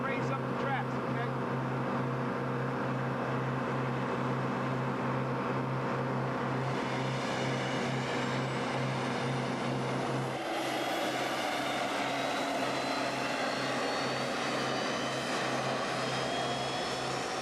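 Lockheed F-117 Nighthawk jet engines spool up at night, a steady loud whine with a pulsing low drone that climbs in pitch midway, with radio voices faintly underneath.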